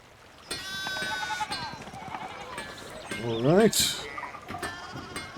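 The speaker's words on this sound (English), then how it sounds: "A lot of sheep around, huh?" Sheep bleat in the medieval village setting of the video game Pentiment, several short wavering cries near and clear, the loudest one late, with someone speaking briefly over the game sounds.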